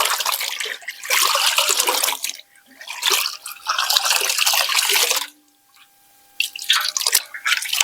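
Washed clothes being rinsed by hand in water, with bursts of splashing and sloshing that come and go in several rounds and a brief quiet gap, close and fairly loud with no talking.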